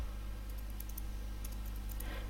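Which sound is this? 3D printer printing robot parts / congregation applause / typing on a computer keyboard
typing on a computer keyboard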